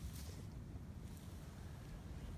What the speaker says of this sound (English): if the wind's blowing hard and messing up the audio, I apologize